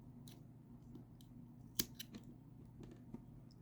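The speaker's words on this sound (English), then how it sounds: "I'm just going to snip that here" Scissors snipping a crochet yarn tail, a single sharp close cut standing out from a quiet room, followed by a few soft fainter clicks.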